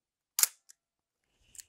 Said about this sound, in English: Let's see if we can get a nice shutter here.